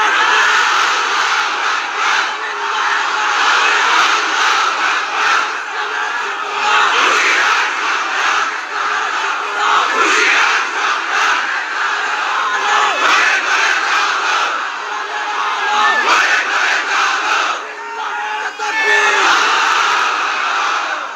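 A large audience at an Islamic sermon gathering shouts back in unison to the preacher, a loud, sustained roar of many voices that swells and holds for the whole stretch, close and dense.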